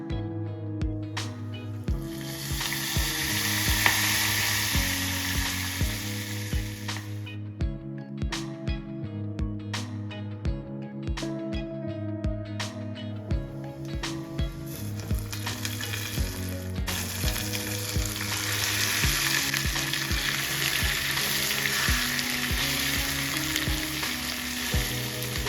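Dry red chillies, asafoetida and curry leaves crackle in hot oil as a tempering for a gongura chutney, a steady close sizzle that continues under loud background music.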